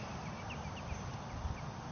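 A few brief goose calls come faintly from a distance, short honks spaced out over a steady outdoor background hiss.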